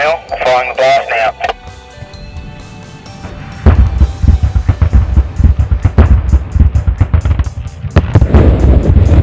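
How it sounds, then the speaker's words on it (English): Rock blast detonation at the Musselroe wind farm construction site, heard over a radio as a crackly burst of rumbling thuds after brief radio talk, followed by continued rumbling and clattering with bursts of noise. "Attention all personnel, firing the blast now."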